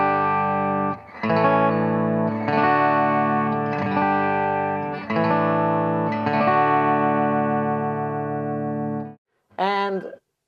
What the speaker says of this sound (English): I will move this blend switch all the way so you can hear the total piezo sound.